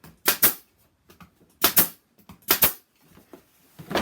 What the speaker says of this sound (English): Shoot a few brads in there.